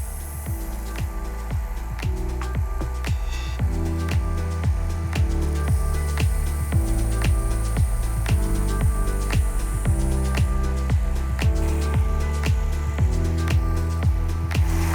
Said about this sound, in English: To sharpen the TFK, we're going to work both sides symmetrically